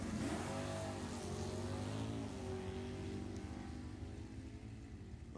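Mopar and Chevrolet drag racing cars accelerating down the strip at Sacramento Raceway's NHRA National Open, a loud sustained engine roar with rising pitch, heard from a distance and fading slightly toward the end.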